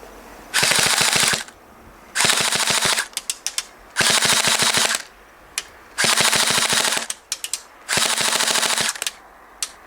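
Airsoft MP7 firing full auto in four long bursts separated by short pauses, with a few quick single shots, loud and close.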